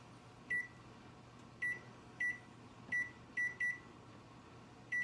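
A kitchen timer for baking orange cranberry scones beeps repeatedly, with short bright tones at irregular intervals over a steady low room hum.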